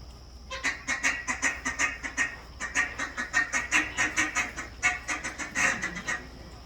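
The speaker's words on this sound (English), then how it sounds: "the feeding call is just a ticka, ticka, ticka, ticka, ticka, ticka, ticka." Ducks give a feeding call, a fast steady run of short, clipped ticking quacks that repeats for several seconds, close and fairly loud.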